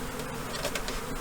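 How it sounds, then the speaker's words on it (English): Worker honeybees from a collected swarm buzz continuously as they are transferred to a new hive, a steady close hum with no voices. "worker bees"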